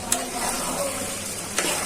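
Beef tripe fries and is stirred in a pan, with a steady close sizzle and two short scraping clanks of the spoon near the start and end.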